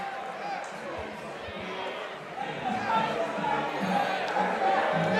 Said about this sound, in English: listen to this capacity crowd